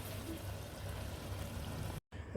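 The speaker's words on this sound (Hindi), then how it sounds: "अब इसमें मैं 3 गिलास पानी ऐड कर दूंगा" Water is poured into a cooking pot of softened vegetables for vegetable pulao, a steady, even rushing splash lasting about two seconds that stops briefly before a faint continuation, with no talking.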